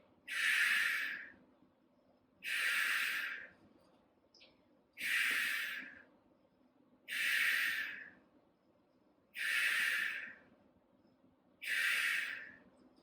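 Slow, deep breaths during a Pilates exercise, six long airy exhalations at even intervals a couple of seconds apart, close and fairly quiet, with near silence between them.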